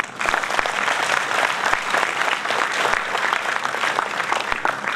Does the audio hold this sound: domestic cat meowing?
no